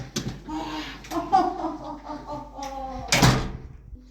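A knock or bang at a door in a home, a sharp loud burst near the end following a stretch of muffled thumps and movement, with no talking.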